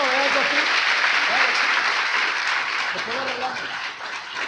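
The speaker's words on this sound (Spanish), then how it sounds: "Denle un aplauso a Jesús." A church congregation claps loudly and steadily in praise of Jesus during a sermon, sustained applause with scattered voices and cheers mixed in, fading slightly toward the end.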